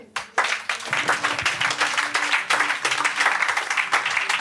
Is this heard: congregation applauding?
yes